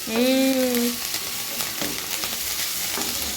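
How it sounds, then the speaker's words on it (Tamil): Ponnanganni greens are sautéed in a pan with a steady sizzle and stirring scrapes, after a short high whistling tone at the start. "இந்த கீரையை மட்டும் கொஞ்சம் நல்லா சுருளை வதக்கிடுங்க"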